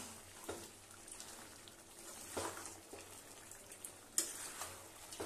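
Chicken with chopped tomato cooks in a pan over low heat without oil, a faint soft sizzle broken by a few scraping stir strokes, close by and with no talking.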